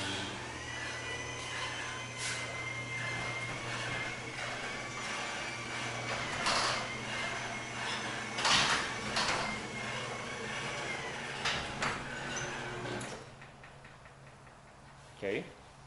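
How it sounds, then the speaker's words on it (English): An ungreased garage door rolling open on noisy rollers, a continuous mechanical rumble with rattles and clicks over a steady hum. It runs close and fairly loud, then stops near the end. "Now I'm going to open it here. You see how loud it sounds."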